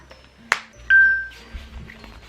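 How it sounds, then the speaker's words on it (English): A sharp electronic ping followed by a short, steady beep tone from a phone, fairly close, over a quiet background with faint handling noise. "there's my phone going beeping"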